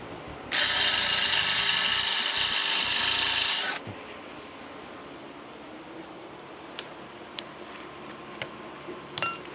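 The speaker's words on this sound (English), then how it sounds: "Something tells me I'm using the wrong drill bit." A power drill fitted with the wrong bit whines loudly and steadily for about three seconds, then stops, leaving quiet with a few faint clicks and taps.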